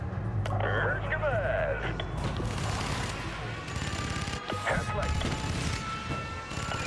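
Cannon fire booms and crackles in the video game Spore during an assault on a city, with bursts of rapid shots under a player talking.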